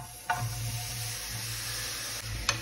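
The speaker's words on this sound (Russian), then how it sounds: "Минут 5-7 обжариваем яблочки." Apple pieces sizzling in a frying pan with sugar and cinnamon, a steady close hiss and crackle throughout, with a couple of brief stirring scrapes and no talking.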